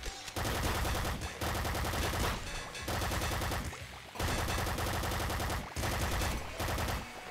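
Bouncer SMG fire from the video game Nuclear Throne rattles in dense, continuous automatic bursts, loud and close, broken by a few brief pauses, with no talking.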